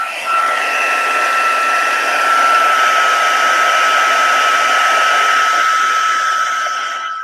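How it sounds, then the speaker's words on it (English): A craft heat tool blowing hot air during a paper crafting session, a loud, steady, close whine that runs unbroken the whole time with no talking. "then do my heat tool again"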